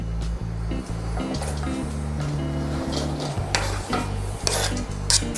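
Cabbage, carrot and onion are tossed in a hot wok, making rough, repeated scraping and rasping strokes of utensil against metal over a low sizzle, in an uneven close rhythm.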